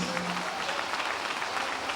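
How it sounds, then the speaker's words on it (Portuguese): A church congregation applauding, a dense continuous patter of many hands clapping, fairly loud and even throughout with no voices over it. "Vamos aplaudir mais uma vez."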